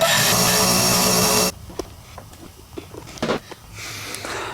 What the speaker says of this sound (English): So I'm going to drill that thing out and do the same thing.